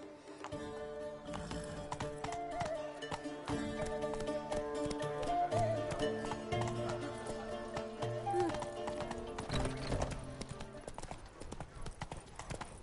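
Steady clip-clop of the horse Roach's hooves in a video game, walking through the city of Beauclair with a rhythmic, close beat over game music and ambient sound, with occasional background voices.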